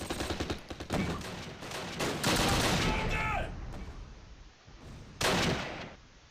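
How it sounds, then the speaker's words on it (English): MG42 machine gun fire in the Close Combat: Last Stand Arnhem video game, rattling in dense rapid bursts amid other battlefield gunfire, loud and close, with a sharp renewed burst near the end. "Yeah, I've got MG42 up in the building. Area secured. And it's shooting us already."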